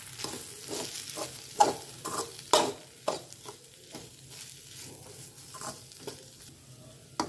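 Spices such as cumin powder and dry mango powder being stirred through a frying pan with whole spices, a steady scraping rhythm of spoon strokes over a faint sizzle, close and moderately quiet, with no talking.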